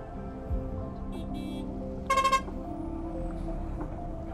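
Busy, heavy road traffic ambience with a steady engine rumble, broken by a short burst of repeated car horn toots near the middle.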